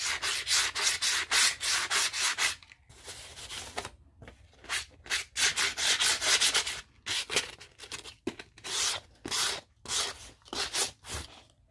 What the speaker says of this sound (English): I've got this sandpaper here, which I'm kind of nervous to even use it